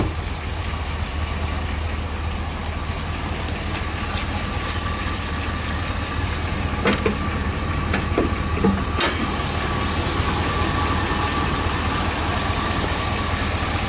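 A Chevy Silverado 3500 pickup with a Vortec engine idling, a steady low rumble that stays even and continuous, heard up close with a few faint clicks and ticks over it.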